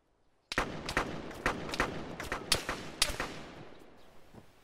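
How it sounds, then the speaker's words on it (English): Gunfire in the military video game ArmA set in Fallujah: a rapid, irregular series of sharp shots over about four seconds, loud and close with echoing tails, no talk. "Shooting at us."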